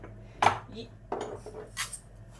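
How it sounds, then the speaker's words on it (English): Black peppercorns drop into a soup pot with a few small, sharp clinks and rattles against the metal, spaced out in brief bursts over a quiet kitchen background. "And then next I'm going to put some black peppercorns in."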